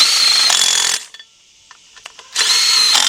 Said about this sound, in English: You're going to get your cordless impact, a 4-inch 3/8 drive extension, and a 15mm deep socket 3/8 drive.